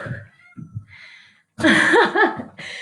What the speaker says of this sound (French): Le chat a miaulé en même temps, il en peut plus, il a faim.